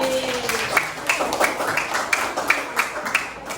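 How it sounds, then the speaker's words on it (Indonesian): Students in a classroom giving a round of applause, scattered handclaps of uneven rhythm at moderate volume, with a brief tonal voice sound at the start. "Beri tepuk tangan dulu"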